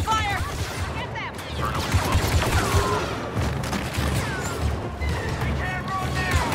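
Blaster fire during a Star Wars Battlefront II campaign firefight: repeated shots and impacts crackle continuously under loud shouting voices and battle noise.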